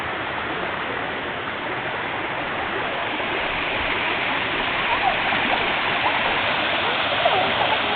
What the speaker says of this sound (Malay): Dekat air terjun Telaga 7.